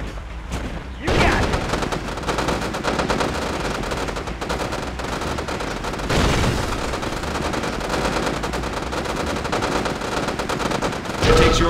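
Sustained automatic rifle fire from a squad of infantry shooting at a crippled American Grizzly battle tank in Red Alert 2, dense rattling bursts running nearly nonstop with a few heavier impacts, loud and close throughout.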